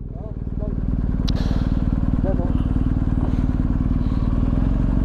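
Close, steady putter of a small scooter engine idling and running, with faint voices and a sharp click partway through.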